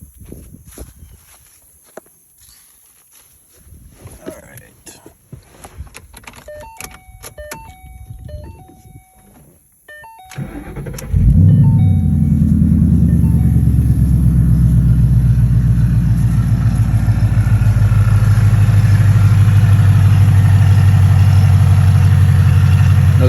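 A Ford Mustang GT/CS, previously flooded and rebuilt with a used piston rod, cranks and fires up partway through, then settles into a loud, steady, close idle after quiet footsteps and handling noises.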